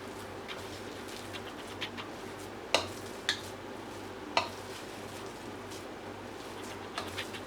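Soft, steady sizzling of mutton kheema cutlets frying in a pan, with a low hum underneath and a few sharp clinks and taps.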